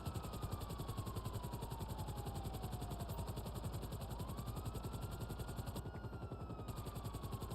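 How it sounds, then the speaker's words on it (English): A helicopter in GTA Online gives a steady, close rotor chop with a continuous engine whine that holds throughout, and nobody talks. "This helicopter can only hold 2 people."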